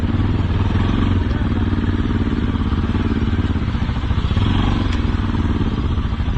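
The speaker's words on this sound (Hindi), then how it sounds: "बाइक चाहिँ यहाँ पार्क भयो।" A motorcycle engine rumbles loudly and steadily nearby on a village road, with some rattling clatter as the bike comes to a stop and is parked.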